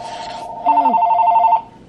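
A telephone rings in a short electronic trill burst, loud and near, indoors during a rummage-sale unboxing, with some talk around it.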